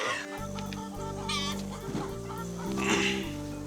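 Farm chickens cluck and call near a farm with cattle, with several short bird calls over a steady low hum.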